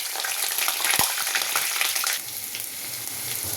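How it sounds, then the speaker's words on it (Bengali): Eggplant pieces dropped into hot oil in a kadai fry with a loud, dense, close sizzle and crackle, a sharp clatter near the start, easing slightly after a couple of seconds, no talk. "তেল গরম হয়ে গেছে, বেগুনগুলো ভেজে নেব।"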